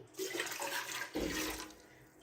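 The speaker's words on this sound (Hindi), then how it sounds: "हमने यहाँ पे लिया है कुकर, इसके अंदर हम ऐड करेंगे पानी।" Water pours into a metal pressure cooker in two short splashing gushes, close by and fairly quiet.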